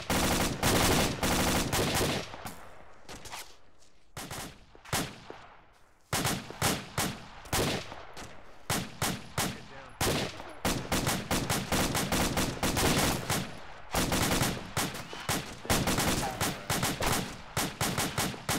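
Dense tactical-shooter gunfire from a military game match, rapid bursts and single shots cracking close and loud in near-constant volleys across the whole stretch, with a brief lull midway.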